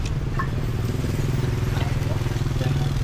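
Motorcycle engine on a busy Ho Chi Minh City street, a steady close low rumble with rapid pulsing throughout, continuous rather than a brief pass.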